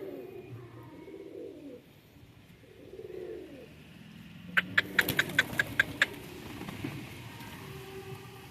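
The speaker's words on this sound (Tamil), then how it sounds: "பருப்பு புறாக்கள் நல்லாவே சாப்பிடுது." Pigeons eating lentils, with soft low cooing at first, then a quick run of about seven sharp, close pecking clicks over a steady background.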